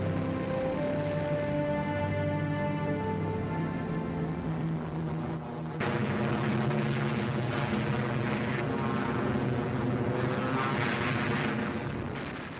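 A Spitfire fighter's piston aero engine roars continuously, loud and close, its droning pitch shifting partway through as the sound swells and eases, with no talk over it.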